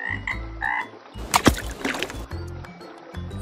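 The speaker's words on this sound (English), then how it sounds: "Frog." A frog croaks in a quick burst of rough, gurgling calls over light background music, clear and close.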